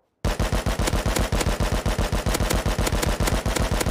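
SAR semi-automatic rifle firing in the survival video game Rust, a fast, unbroken burst of evenly spaced, sharp loud shots lasting several seconds after a brief silence, with no talk.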